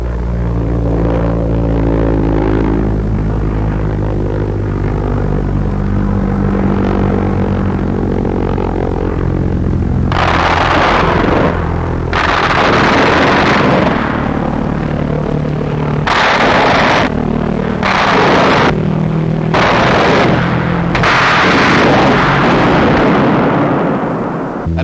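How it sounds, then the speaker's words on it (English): 20mm aircraft cannon fire in 1944 strikes a V-1 flying bomb in flight, heard as loud, broad bursts of firing and blasts over a continuous roaring engine drone, with no voices. "20mm cannon fire either wrecks the engine, puts the gyro out of commission, or explodes the bomb"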